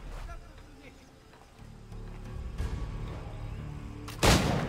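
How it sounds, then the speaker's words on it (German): A cannon fires in the Assassin's Creed 3 video game, a sharp loud boom near the end that stands out over in-game ambience and someone talking in German. "Ich brauche noch meine Kanone."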